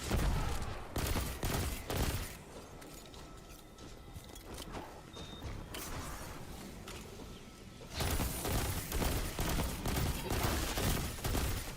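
Rapid video-game gunfire rattles in dense bursts, loud and near, easing off through the middle before a heavy volley resumes.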